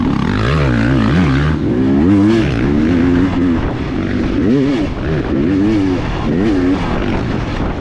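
Woods racing dirt bike held at wide open throttle, a loud, continuous high-revving engine scream with wavering pitch as it rips along close by, engine noise filling the whole stretch.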